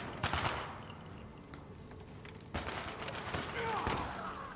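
Gun blasts from Call of Duty Black Ops Declassified on PS Vita crack out in two heavy clusters of close shots with rumbling echoes, separated by quieter stretches where a voice talks.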